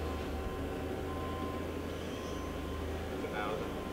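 The main spindle of a Hardinge Conquest T-42SP Super Precision CNC turning center spinning, making a steady, low mechanical hum and whir that stays constant, with people speaking over it.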